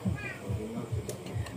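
Farm cats wait for fish on a rainy day, giving several short, soft meows in a steady rhythm under quiet background noise.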